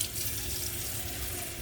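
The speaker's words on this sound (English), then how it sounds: "So I'm going to put a little more water in here." Tap water runs into a cooking pot in a brief, continuous splashing pour that stays at an even level, heard close and moderately quiet.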